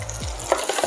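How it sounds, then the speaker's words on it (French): Mirabelle plums tipped into hot butter in a pan, giving a soft continuous sizzle with a low thump as they land, then light crackles. "On vient verser nos mirabelles voilà"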